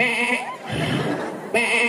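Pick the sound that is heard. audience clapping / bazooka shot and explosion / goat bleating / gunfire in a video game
goat bleating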